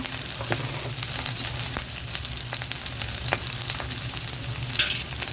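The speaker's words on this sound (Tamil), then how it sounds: "கொஞ்சம் வதங்கட்டும்" Garlic and curry leaves sauté in a pan for garlic chutney, a dense, steady close sizzle with scattered spatula scrapes and clicks throughout, no voices.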